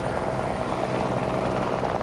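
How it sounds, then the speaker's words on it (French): A helicopter flying away, a loud, steady rotor and engine roar that fills the whole clip without clear fading, with no talk over it. "tandis que l'hélicoptère disparaissait vers le sud"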